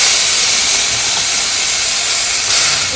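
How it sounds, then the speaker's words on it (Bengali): Onion paste hitting hot oil in a pan while cooking a fish dish, giving a steady, loud, close hiss of sizzling that holds evenly for the whole stretch with no talk over it. "পেঁয়াজ বাটা আমি এবার এর মধ্যে দিয়ে দেবো"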